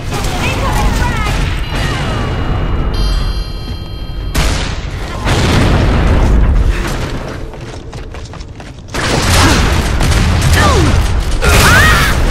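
Frag grenade blasts in the video game Gears of War: Judgment, loud booming crashes that cut in abruptly over a dense bed of combat noise, with a voice speaking among the chaos.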